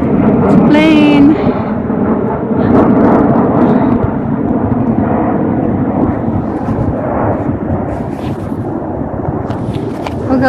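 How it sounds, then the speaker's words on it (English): An airplane flies overhead near an event center where an antique show is being set up, a broad rumbling roar that holds steady and slowly fades, with people talking alongside. "Plane."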